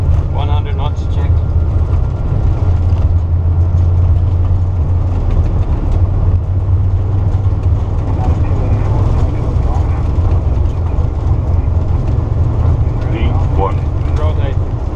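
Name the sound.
Airbus A330 jet engines during takeoff roll at Newark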